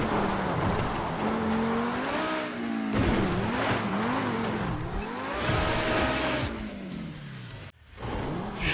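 A car driven in Grand Theft Auto V roars loudly with rising and falling engine revs through gear changes, tyres squealing at times, before a sudden drop and a brief thud near the end.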